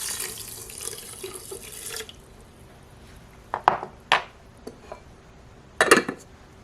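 Water poured from a measuring cup into a Dash mini rice cooker holding jasmine rice, a brief splashing pour at the start followed by a few quiet clinks and knocks of the pot, close up with no talk.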